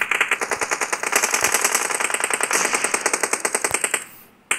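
Rapid automatic gunfire fills a video game battle, a dense fast string of sharp shots at steady rhythm, loud and close, running for several seconds before cutting off abruptly near the end.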